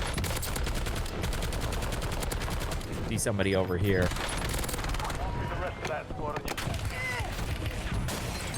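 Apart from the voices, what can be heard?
gunfire in the video game Call of Duty Warzone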